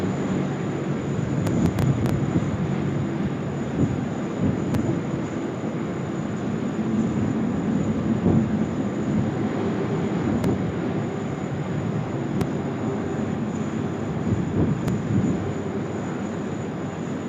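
A United airliner rolls down the runway for takeoff at Sydney Airport, a steady distant jet roar with wind buffeting the microphone, holding an even loudness throughout with no talk.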